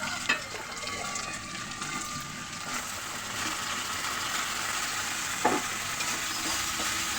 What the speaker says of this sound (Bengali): তেলের মধ্যে দিয়ে দিলাম কিউব করা পেঁয়াজ, একটু রসুন কুচি